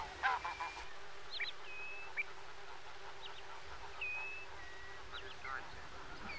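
Greylag geese call in the Netherlands with scattered, faint honks. The calls are heard at a distance over a quiet outdoor background.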